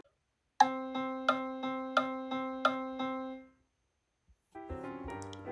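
A measure of eight evenly spaced eighth notes in 4/4 time, each struck note decaying quickly in a steady pulse, followed after a short gap by a brief fuller chord-like passage.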